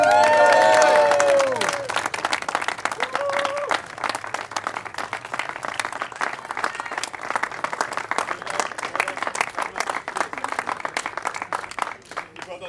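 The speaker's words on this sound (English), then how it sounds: "Round of applause." A crowd claps and cheers at a trophy presentation after a Caterham 270R race weekend, with sustained applause and a voice speaking briefly over it at the start.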